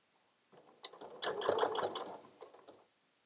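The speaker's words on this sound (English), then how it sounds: "I'm going to do a reverse stitch just to secure that stitching in there." A sewing machine runs briefly, doing a short reverse stitch on a pant hem, its needle mechanism clattering in a quick mechanical burst at close range.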